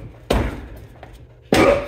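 A stuck wheel on a Miata is struck hard, likely with a sledgehammer, producing two loud, heavy metallic bangs about a second apart, each with a short ringing decay, and faint quiet between them.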